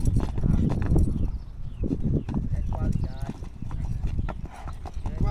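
A treadmill-trained horse trots at a vaquejada ranch, a quick rhythmic clip-clop of hooves close by, while someone talks over it.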